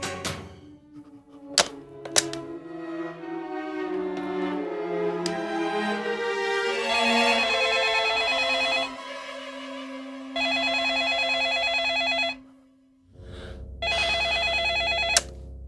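An old-style telephone bell rings in loud sustained bursts separated by short gaps, preceded by a few sharp thunks, close and alone with no talking.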